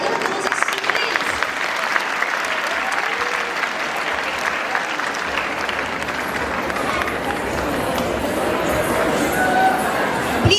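A large school audience at an annual function applauds to welcome students, a thick, sustained roar of clapping that stays loud and even, with crowd murmur underneath.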